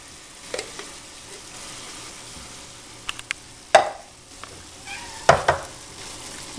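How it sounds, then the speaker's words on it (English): A spoon breaks up 28 ounces of whole canned tomatoes for Walt Disney's chili and beans, giving scattered wet squelches and clinks of metal on the can or pot, irregular and fairly close in a quiet kitchen. "Now we're going to add in 28 ounces of whole tomatoes, which we're going to break up with a spoon before we throw these in."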